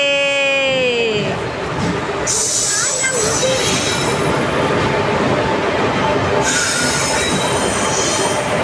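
A train rolls in with loud, high-pitched wheel squeals over rumbling rail noise, and a voice speaks briefly near the start.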